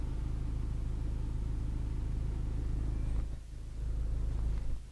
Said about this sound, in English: At idle, you can hear the exhaust note